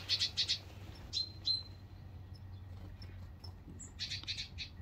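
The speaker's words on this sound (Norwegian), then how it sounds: "Og der oppe satt en fugl" Outdoors on a spring morning, a small bird gives quick bursts of high chirps, a few at the start, scattered single tweets in the middle and another cluster near the end, fairly faint over a low steady hum.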